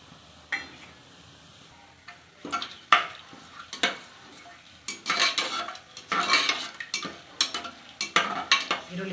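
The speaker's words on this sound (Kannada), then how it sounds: "ಒಗ್ಗರಣೆ ಐಟಮ್ ಎಲ್ಲ ಹಾಕ್ಕೊಳ್ತಾ ಇದ್ದೀನಿ." Whole spices for mushroom biryani sizzle in hot oil in a cooker, with bay leaf and onion added, while a metal spoon scrapes and clinks against the pot in irregular bursts, close and clear.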